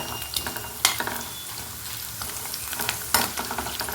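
Grated coconut sizzles and fries in oil for a mango chutney, with steady crackling under occasional stirring scrapes and two sharper clatters, close and alone.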